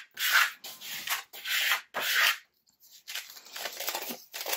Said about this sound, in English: I'm just going to use a card to burnish